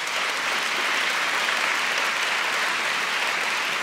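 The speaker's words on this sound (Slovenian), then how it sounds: "En lep aplavz za njih." An audience at a music school's 70th anniversary gala gives sustained, even applause for former pupils, a full room clapping steadily throughout without pause.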